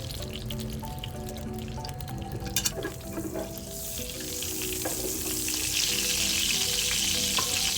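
Broccoli and carrots frying in a pan still coated with leftover salmon juices, giving a steady, close sizzle broken by a few stirring clatters, with the hiss swelling louder toward the end.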